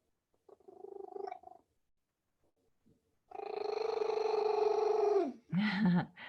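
A pet cat purrs close by in a quiet room, a short rumbling burst followed by a longer, steady purr lasting a couple of seconds, then a brief higher vocal sound at the end.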